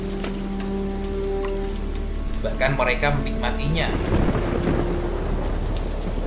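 Heavy rain pours steadily in the wild with rumbles of thunder, a dense continuous hiss under a voice speaking throughout.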